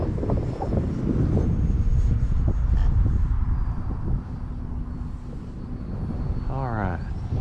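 E-flite T.T. EvoFun RC airplane with landing flaps down, flying slowly in gusty wind, its electric motor and propeller humming steadily with wind buffeting the microphone while someone talks.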